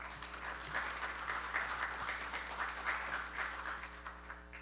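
Fairly faint applause from an audience at a committee launch ceremony welcomes a speaker, with soft clapping swelling in gentle waves over a constant low hum in the hall.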